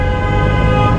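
Car horns blare in congested Metro Manila street traffic, one loud, steady toot held for the whole moment over the rumble of road vehicles.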